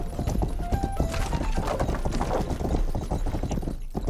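Hooves pound in a fast, continuous gallop from a horse in the game Rustler, dense and close with little pause, plus a faint whinny-like rise partway through.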